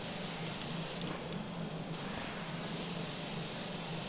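Pressure washer jet in PowerWash Simulator, a steady loud hiss of spraying water that swells sharply for about a second before settling back to a continuous rushing spray, with no talk.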